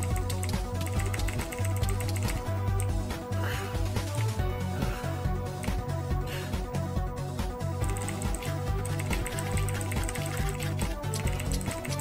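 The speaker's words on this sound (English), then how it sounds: "I really should have gone with the controller so I don't make, like, so much clicking sound" Mouse buttons and keyboard keys click rapidly and steadily while Minecraft: Story Mode plays, the clicks sitting under loud, continuous game music and sound effects.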